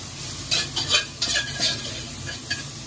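Aromatics stir-fried in a hot wok for scallion pork slices with wine, with close, loud sizzling broken by several sharp spatula scrapes and clinks in an irregular rhythm.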